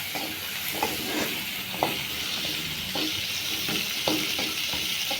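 Onions sautéing in a pan for a fish curry give a steady, soft sizzle. Occasional scraping stir strokes come through close by, with no talking.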